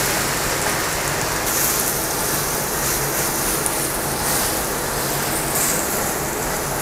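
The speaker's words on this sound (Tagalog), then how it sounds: "Mainit na yung oil natin, so ilagay natin yung ating garlic." Chopped garlic frying in hot oil gives a loud, continuous close-up sizzle and crackle that stays steady throughout, with no talk.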